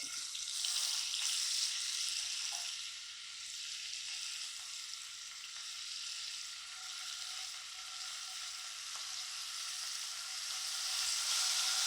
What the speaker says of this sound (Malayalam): നമുക്ക് ആദ്യം നമ്മുടെ പനീർ ഒന്ന് ഫ്രൈ ചെയ്തെടുക്കാം